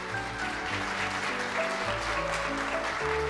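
Audience applause at a KBS broadcasting company CEO inauguration ceremony, a broad, sustained clapping crowd in a hall, with music playing underneath throughout.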